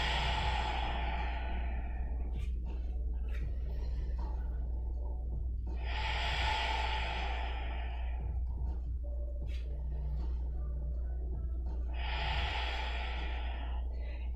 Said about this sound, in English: Breathe nice and deep here.